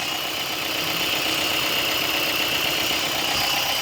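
Car engine idling smoothly after a chemical carbon cleaning, a steady, even hum with constant mid-range rumble and no changes in revs, recorded close with no one talking.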